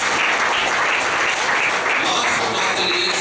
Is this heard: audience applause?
yes